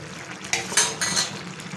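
Bottle gourd curry stirred in a pan with a metal spoon: a few sharp clinks and scrapes against the pan over a low steady background hiss.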